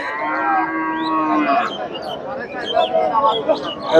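Dairy cows low loudly at the Chandaikona cattle market in Bangladesh, one long drawn-out moo followed by shorter bellows, with a busy market crowd murmuring behind.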